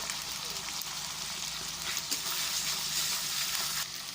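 Spice masala with two teaspoons of ground cumin paste sautéing in a pan for chicken biryani, giving a steady, dense sizzle that runs without pause from start to finish.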